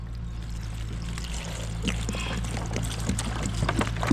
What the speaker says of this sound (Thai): เทน้ำมาก่อนเลย